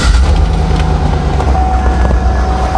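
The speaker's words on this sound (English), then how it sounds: "Then go ahead and start the car." A car engine running at a steady idle right after starting, a low continuous rumble with a faint whine on top, close and alone without talk.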